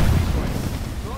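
A deep, rumbling frag grenade explosion in a video game, close and loud, its low boom dying away slowly over about a second.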